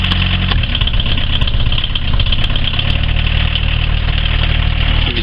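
A Volkswagen Jetta diesel engine idles steadily and loudly up close, a continuous low rumble with a rough, even clatter and no breaks.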